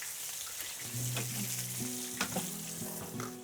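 A hamburg steak patty fries in a pan over low heat, giving a steady soft sizzle throughout with a few faint clinks and scrapes; no one speaks.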